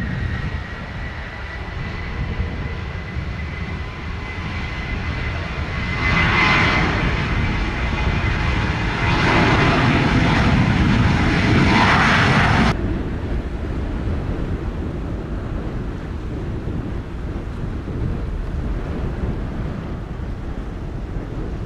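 Sunwing airliner taking off from runway 07 at Montego Bay, a broad engine roar that builds over several seconds and cuts off abruptly, leaving wind and surf-like background noise, with no voices.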